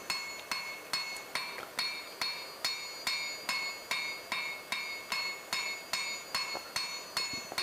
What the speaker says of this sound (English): There's something quite therapeutic about forging the bevels onto it.